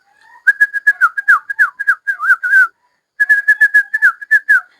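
A person whistles in quick chirping trills to call baby quails in a warm brooder, two bright bursts separated by a short pause, close and loud with no talking.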